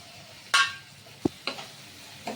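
Chopped capsicum sautéing in a pan for aloo dum, heard as a low sizzle under a few sharp, separate clinks and scrapes from a spoon stirring against the pan.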